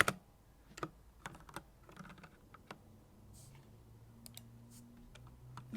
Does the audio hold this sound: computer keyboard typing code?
yes